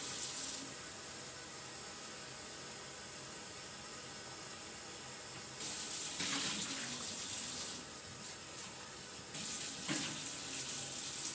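Hot water runs steadily from a tap, a constant hiss that swells louder and splashier at times, as if hands or an object pass under the stream.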